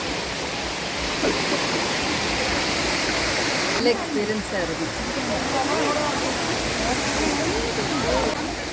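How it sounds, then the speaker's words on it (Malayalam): Madasseri waterfall near Vazhichal in the Amboori area of Kerala rushes in a loud, steady roar that continues unbroken while a person talks over it. "എങ്ങനെ ഉണ്ടായിരുന്നു വെള്ളച്ചാട്ടം മാടശ്ശേരി വെള്ളച്ചാട്ടം അടിപൊളിയാണ്"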